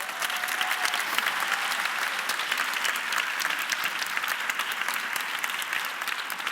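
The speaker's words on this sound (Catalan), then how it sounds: "Un fort aplaudiment." A crowd applauds steadily, a dense patter of many hands clapping at an even level throughout.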